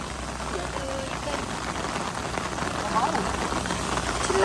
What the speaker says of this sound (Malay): Hujan ni dekat sini.